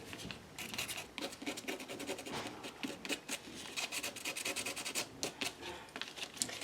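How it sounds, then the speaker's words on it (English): Sandpaper rubs steadily over the back of a paper clay heart, a close, continuous scratchy scrubbing in quick back-and-forth strokes with brief pauses, no talking. "I'm going to take the sandpaper to the back, grunge that up"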